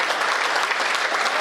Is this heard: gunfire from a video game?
no